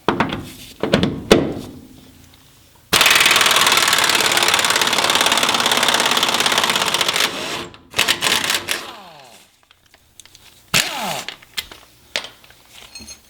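Roughly $200 air impact gun: a few sharp clacks and taps, then a loud continuous hammering buzz for about five seconds, then shorter bursts and rattles, close by without speech.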